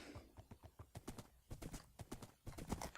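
Horse hooves clip-clop in Minecraft, a fast nether horse moving along in a steady run of quick hoof strikes, close and clear, with a brief whinny-like call and no talking.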